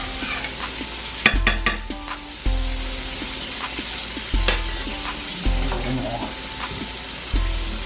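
Food frying in a pan with paprika and salt, stirred repeatedly: a continuous loud sizzle broken by several sharp scraping strokes and clunks of a utensil against the pan at irregular intervals.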